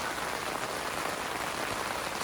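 Heavy rain beats on a pop-up cabin tent, a dense, steady hiss that stays constant and close with no voices.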